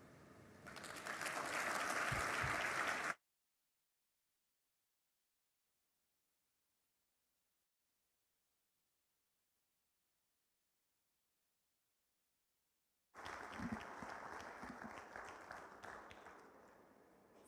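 An audience at a Nigerian talk event bursts into applause in two separate rounds, each a dense, moderately loud wash of clapping, divided by a long stretch of silence.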